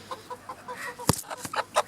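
Near a small backyard flock, a rooster gives short clucking calls and sharp squawks in quick succession, close and fairly loud over a quiet background.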